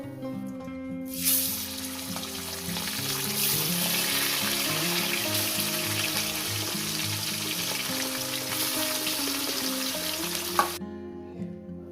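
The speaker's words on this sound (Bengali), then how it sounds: "লেজাগুলো একেবারে ভেজে নিয়ে ফিরছি" Continuous close sizzling of rohu fish pieces frying in oil, with a few clinks and scrapes from stirring, cutting off near the end.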